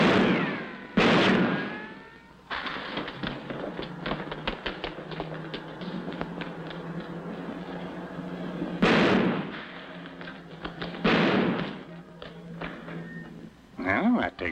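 Several gunshots from a 1947 comedy crime film, sharp loud cracks spaced a few seconds apart over music and background, with people talking nearby between the shots.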